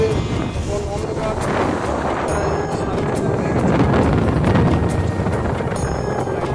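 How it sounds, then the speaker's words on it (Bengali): Strong sea wind blows across a beach on Mousuni Island, a loud, continuous roar buffeting the microphone for the whole stretch, with the sound of the sea beneath it. "প্রচুর হাওয়া।"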